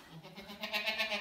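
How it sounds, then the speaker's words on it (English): Dairy goats bleat on a farm, a run of several wavering calls close by, rising and growing louder toward the end. "happy goats. You made it."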